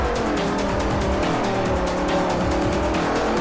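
A car in the Forza racing game climbs a small hill toward the Iberian International Circuit, its engine roaring loud and steady with a constant tire rumble throughout.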